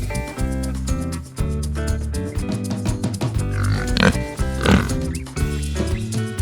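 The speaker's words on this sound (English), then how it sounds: "Pig." A pig oinks and grunts a few times over a loud, busy backing of children's music that runs throughout.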